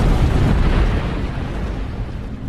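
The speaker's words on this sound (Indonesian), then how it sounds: "Sayangnya, sebuah ledakan kembali terjadi hingga menewaskan beberapa perwakilan FBI dan juga seorang kepala keamanan AS." A heavy explosion blast from the film The Kingdom, a dense, loud boom with rumbling debris that slowly decays over a couple of seconds, with no voices.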